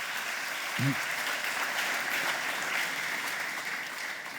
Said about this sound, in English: round of applause for Stuart